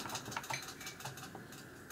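Quiet keystrokes on a Bluetooth keyboard paired to a Shield K1 device, a quick irregular run of light clicks, fairly faint and close, with no talking.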